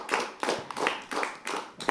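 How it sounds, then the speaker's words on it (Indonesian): Audience clapping at a TPA Al-Ikhlas Quran school gathering, fairly faint, with groups of claps in uneven bursts and brief gaps, no talking over them. "Baiklah kita kasih tepuk tangan."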